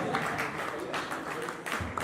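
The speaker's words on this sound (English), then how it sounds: "A round of applause." An audience at a reality show prize ceremony for teachers in Lagos breaks into a short burst of dense clapping, a busy crowd texture lasting about two seconds.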